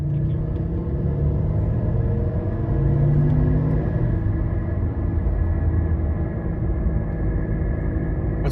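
A badly worn wheel bearing on a car while driving: a loud, steady droning rumble with a constant hum layered over road noise, continuous and unchanging, heard from inside the vehicle.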